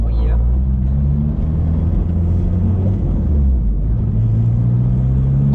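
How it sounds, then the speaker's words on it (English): Low rumbling drone from the engine of a 1981 VW Caddy Mark One pickup with a turbo, steady and loud throughout, with faint rising whistles at the start and end. "The turbo noises."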